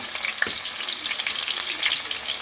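Tomato, scallion and seasonings sizzle steadily in a hot pot on a kitchen stove, a bright continuous crackle with a brief clink of a utensil near the start, close and alone with no talking.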